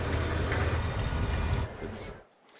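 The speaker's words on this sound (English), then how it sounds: "the cleaning of the Plaza de San Jose is happening with the cars passing by" A loud, broad rumbling wash of street cleaning vehicles close by in the Plaza de San José fades away over a couple of seconds, leaving a quieter, emptier background.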